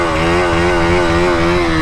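A motorcycle engine, a KTM Duke or Yamaha MT-15, drones loud and close in a steady, throaty rev held high throughout the short stretch, with no voices.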